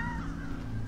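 A flock of large birds cawing in the video game Shelter 2, harsh overlapping calls close by in a brief burst over a low droning background.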